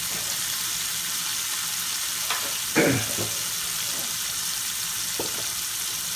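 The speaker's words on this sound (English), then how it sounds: "I think that garlic's certainly on a good fire already." Garlic sizzling in a pan over a hot flame: a dense, even frying hiss runs throughout, with a few soft scrapes and one brief low clunk partway through, and no voices.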